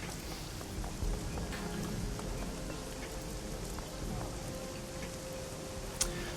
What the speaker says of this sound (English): Despite the wind and rain pelting high